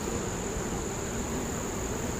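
Honey bees in a hive give off a steady, dense droning buzz that stays even and close, with no break and no voices.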